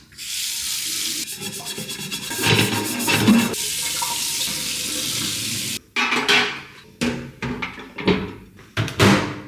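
Wet scrubbing of a dish brush against a glass microwave plate with running hot water and dish soap, steady at first, then broken into short strokes and splashes.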